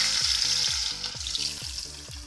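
Fish fries in hot coconut oil in a small pan for fish molly, giving a loud, steady sizzle with about seven evenly spaced scraping strokes as the pieces are stirred.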